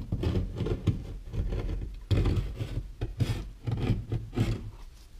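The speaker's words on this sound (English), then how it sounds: "I'm going to use a scraping knife to cut away and make it more smooth and even" A scraping knife rasps damaged, chipped paint off a water-damaged drywall ceiling in steady, close, continuous strokes with short pauses, and no talking.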